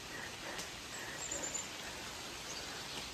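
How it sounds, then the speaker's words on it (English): Heavy rain falls on trees in a steady, dense hiss that stays even throughout, heard from beneath the canopy. "Oh, it's raining heavier."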